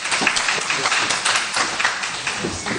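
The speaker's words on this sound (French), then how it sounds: "que je vous demande d'applaudir également." An audience at a World Bank panel on Côte d'Ivoire applauds steadily as a bank operations director is introduced, a dense, continuous patter of many hands.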